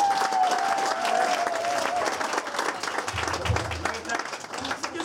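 Studio audience at a Stockholm comedy contest applauding and cheering for a comedian, a dense steady wash of clapping that holds loud throughout, with a voice briefly audible over it.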